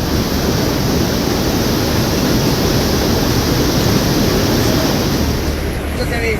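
Floodwater released from Gangapur dam rushes down the swollen Godavari river, a loud, steady broadband roar filling the whole stretch without pause, with a voice speaking over it.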